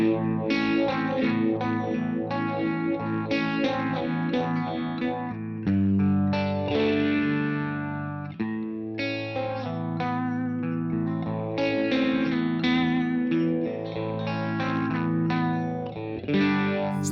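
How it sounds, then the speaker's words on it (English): An electric guitar runs through an Orange Vintage phaser pedal, producing a swirling, sweeping tone over steady chords and riffs that play continuously and fairly loudly for the whole stretch. "let's so kick the phaser in and see how that sounds"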